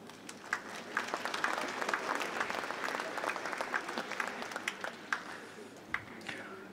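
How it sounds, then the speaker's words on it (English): A lecture audience applauds for several seconds after a speaker is called forward, a dense patter of many hands with a few louder claps standing out near the end. "Let's give him a round of applause."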